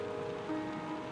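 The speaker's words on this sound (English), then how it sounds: "Anything to drown out the rain, I suppose." Steady rain patters in a video game, Letter Lost, set around a post office; a soft, even wash of falling drops with no other sounds.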